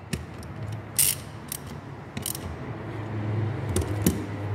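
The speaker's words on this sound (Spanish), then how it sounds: "Estos los apretamos con un dado de 14 milímetros." A ratchet with a 14 mm socket tightens the brake caliper bolts on a rear disc conversion kit for a Mk3 VW Jetta, giving a few crisp clicking bursts over a low background hum.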